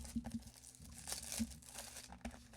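Scissors cutting open the plastic wrapper of a 2025 Topps Heritage hobby trading card box, a soft run of crinkling and tearing sounds, close and quiet, with no talk.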